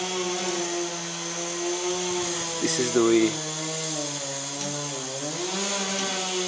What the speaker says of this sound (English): sorry for the chainsaw